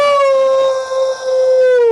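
A person imitates a wolf howl with a single loud, sustained, wavering cry that holds its pitch and slowly falls toward the end, close and alone without other sounds.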